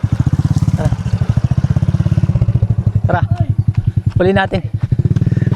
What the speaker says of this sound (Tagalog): Kunin ko lang yung motor.